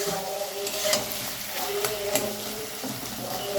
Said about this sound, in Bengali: মশলার সাথে মাশরুমটাকে ভালোভাবে কষিয়ে নেওয়া